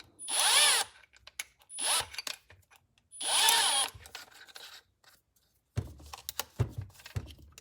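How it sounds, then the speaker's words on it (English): A Milwaukee M12 hammer drill revs in three loud, close bursts of about a second each with short gaps between, followed by softer scattered handling thumps and clatter. "Now let's test the drill."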